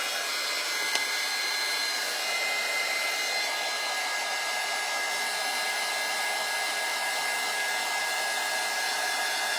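A craft heat tool blows hot air over a cotton spun sheep, a continuous steady whir and rush of air at even loudness from start to finish.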